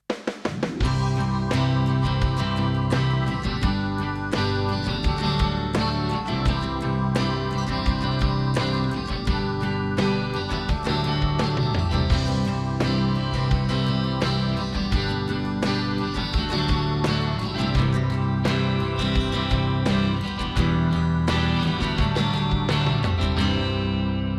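A full band plays a driving Nashville pop-rock chorus with guitars, drums and layered harmonies, loud and continuous throughout, with a bright, energetic feel.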